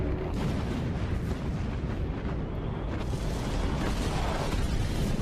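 Torpedo hits and explosions rock the battleship Iowa in the naval combat game Battlestations Pacific, a loud, dense, continuous wash of rumbling booms and blasts with no voices.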